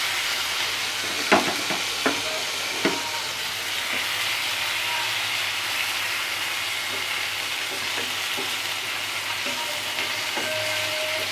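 Pomfret fish pieces frying in a pan give a steady, close sizzle and hiss, with a few light clinks and taps near the start and no talking.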